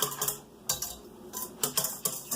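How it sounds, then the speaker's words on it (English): A metal whisk stirs active dry yeast into liquid in a bowl: quiet, close clinks and scraping taps arrive in short irregular bursts, with no talking. "So then I just take a whisk and I whisk this up so that it starts to dissolve."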